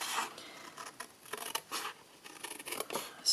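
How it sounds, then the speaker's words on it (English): Scissors snipping through scored card, heard as a quiet run of short crisp cuts and rustles that comes and goes in uneven bursts, close up, with no talking. "you want to cut so that you're cutting away your score line, and then do the same again over here"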